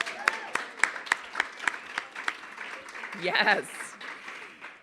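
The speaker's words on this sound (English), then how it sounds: "So let's start with a round of applause for you." Applause from a town hall audience, starting as slow, distinct claps and swelling into a brief burst of denser clapping, with a voice speaking briefly over it.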